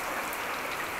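Steady rain falling outdoors on a mountain cycling route, a dense, even hiss close by with no other sounds.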